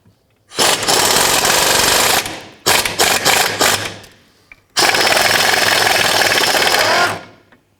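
Air impact wrench or power tool removing a 14mm nut from a rear sway bar bushing bracket on a 2002-2006 Nissan Altima, heard as three loud, sustained buzzing bursts close up, each a couple of seconds long, with short gaps of stuttering bursts between them.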